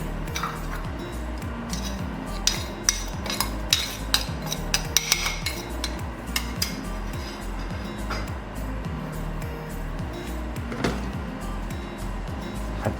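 A paste of garlic, coriander root and pepper sizzles steadily as it is stir-fried in a little oil, with continuous frying crackle and repeated scraping and tapping of a utensil against the pan.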